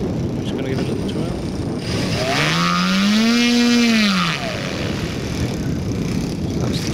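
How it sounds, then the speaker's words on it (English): Electric motor of a large-scale LMA Genesis RC model plane, a Turnigy 6 kW unit, spins up in a smooth rising and falling whine over about two seconds, loud and close against steady outdoor background noise. "That's the Turnagy 6 kilowatt motor."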